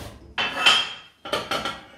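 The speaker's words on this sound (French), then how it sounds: "je vais sortir mes deux écuelles" Two ceramic bowls are taken out in a kitchen. Two short bursts of hard clattering and knocking are heard close by, separated by a brief pause.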